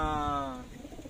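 Racing pigeons at a loft give a short, soft cooing call with a gently falling tone, followed by low rumbling movement and background noise.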